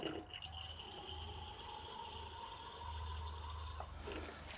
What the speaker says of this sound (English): So that's some nice rainwater in there.